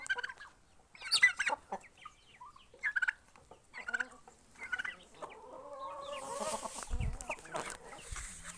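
Turkeys on a small home farm gobble and cluck in scattered bursts, near and moderately loud, with a longer warbling call toward the end and no talking over them.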